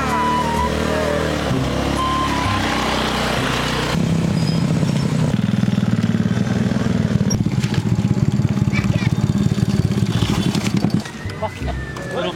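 Motorcycle engines run and rev nearby in a rural group ride, a buzzing drone that shifts pitch and grows rougher midway before easing off at the end.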